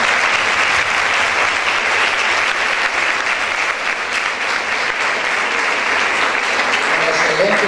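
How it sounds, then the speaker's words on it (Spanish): Steady, loud applause from a conference audience at an inaugural session on early childhood policy, dense, unbroken clapping that continues for several seconds. "yo te agradezco y el aplauso expresa eso"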